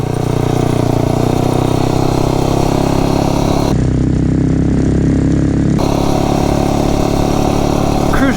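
A small engine with a rebuilt Tillotson 263 carburetor and budget parts runs loud and close, a steady rough mechanical drone with a brief change in tone midway, and no voices.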